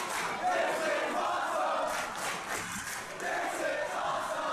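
A wrestling crowd at a ladder match roars and chants in steady waves, a broad distant wall of voices with rhythmic swells and shouts, and no clear single voice above it.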